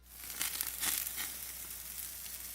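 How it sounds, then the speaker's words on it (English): Crackling sizzle of bacon frying in a pan, faint and close, with irregular pops and a steady hiss for a couple of seconds. "if that sizzling sound made your mouth water"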